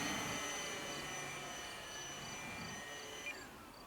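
A Durafly T-28 Trojan RC model airplane (1100 mm span) runs its electric motor at full power in flight, a steady high whine with harmonic tones holding throughout at moderate distance, no talk.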